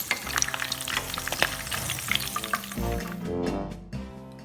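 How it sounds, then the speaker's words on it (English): Tofu fries in a pan with a close, busy sizzle and crackle, broken by scraping stirs and a few louder spatters before the sound eases toward the end. "Fry it until you achieve the color and the texture."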